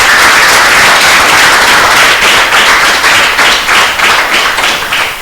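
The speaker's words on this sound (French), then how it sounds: "je voudrais que vous ovationnez, vous applaudissez fortement le président Kabila." Loud, sustained applause from a large crowd at a youth football academy tournament in Africa, dense clapping that holds steady and fades slightly near the end.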